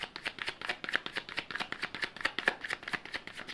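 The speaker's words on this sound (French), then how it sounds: "Donc, je vais prendre une petite carte." Oracle cards are shuffled by hand, making rapid, close, crisp riffling flicks in a quick, uneven rhythm, alone without talk.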